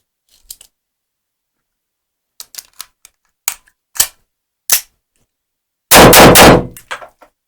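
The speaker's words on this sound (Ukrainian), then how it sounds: "Відстрілявся, на затворну затримку став." A Retay PM blank pistol fires Ozkursan cartridges outdoors: sharp isolated reports spaced a second or so apart, then a loud burst of rapid shots near the end, with metallic clicks of the slide between.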